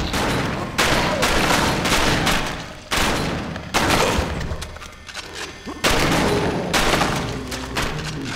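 Rapid bursts of gunfire from the House of the Dead: Overkill video game come in three loud, dense volleys separated by brief drops in level. Faint voices are mixed in beneath the shooting.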